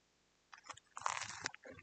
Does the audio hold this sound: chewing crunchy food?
yes